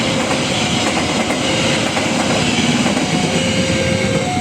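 An extra YK Gambir passenger train rushes past a level crossing close by, a loud continuous roar with rhythmic wheel clatter throughout and a faint squeal near the end.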